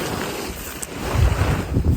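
Strong wind sweeps across a rain-damaged rice field, a dense, rumbling gusty roar buffeting the microphone and swelling louder toward the end of a brief moment.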